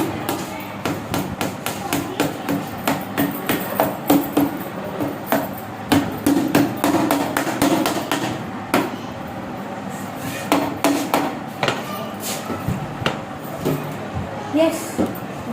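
Small nails are hammered in to fix a broken cover at home, with a close series of sharp, uneven taps and knocks repeating through the stretch and voices talking between and over the blows.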